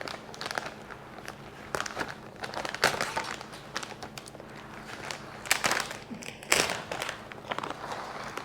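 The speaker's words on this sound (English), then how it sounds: "So just dump that whole bag of cheese in there." A bag of shredded cheese crinkles and rustles while being emptied into a pot of mashed potatoes, with irregular crackling bursts and scattered crunchy handling noises at close range.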